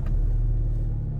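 A Ford Mustang engine rumbles at a steady, deep idle just after it starts, close by and loud, with no voices over it.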